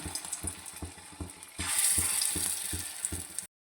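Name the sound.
lentil fritters frying in hot oil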